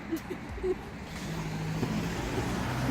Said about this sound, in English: Oh shit, I'm gonna get hit by a car.